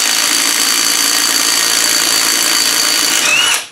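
A power ratchet with an adapter whirs steadily and loudly while spinning nuts off a Series 3 gearbox during a stripdown, a continuous mechanical drone that stops abruptly at the end.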